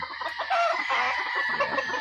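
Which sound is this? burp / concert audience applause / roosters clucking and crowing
roosters clucking and crowing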